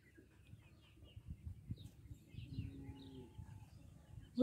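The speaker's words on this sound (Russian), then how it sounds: "Сегодня будем смотреть цыплят породы" Ten-day-old Chinese Xin Xin Dian chicks, a green-egg-laying breed with wheat-coloured down, peep and chirp softly in short scattered calls, close but quiet, with faint shuffling and a low background rumble.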